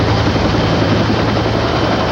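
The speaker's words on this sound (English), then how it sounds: "A rescue helicopter from the Los Angeles County Fire Department arrived within 12 minutes." A Los Angeles County Fire Department rescue helicopter drones loudly and steadily, with a dense low rotor rumble and a broad roar that never lets up. It sounds close and continuous, and nothing else is heard.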